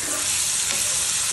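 Fish curry with onion, coriander powder, turmeric and salt being stirred and fried in a pan, giving a steady, close, continuous sizzle with no talking.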